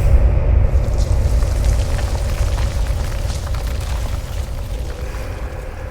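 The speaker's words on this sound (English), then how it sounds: "A massive explosion rocked the mines" A massive explosion rocks a mine in an audio drama, heard as a deep, loud rumbling roar that fills the space and slowly decays over several seconds, with no speech.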